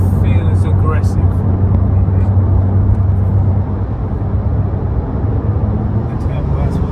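A Porsche 911 Turbo of the 997.1 generation drives with a steady, low, throaty engine drone and road rumble that runs the whole time, with people talking over it inside the cabin.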